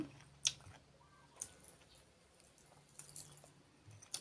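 Close, quiet chewing of food with bones, moist squishy bites and crunches arriving in irregular bursts against a faint background.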